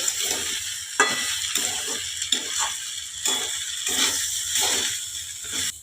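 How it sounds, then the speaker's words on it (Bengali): Rice frying in ghee with turmeric and salt, stirred in a pan: a steady sizzle broken by regular scraping strokes about once a second, close and fairly loud, with no voices. "হালকা করে চালটা একটু ভেজে নিতে হবে"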